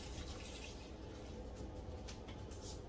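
Bottled water, one 16.9-ounce bottle, pouring into a pot of cabbage soup, giving a steady broadband splashing rush that runs evenly through the whole stretch with no talk.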